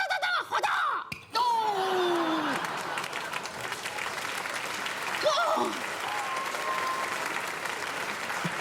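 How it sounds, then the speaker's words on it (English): Audience clapping at a sideshow, a sustained wash of applause with a few louder voices and shouts rising over it near the start and midway, heard from a moderate distance. "What are you clapping for?"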